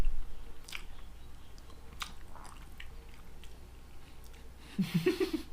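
Someone chews crispy fried fish, bones and skin included, with crunchy bites and wet mastication up close, irregular and moderately loud, over a low background hum.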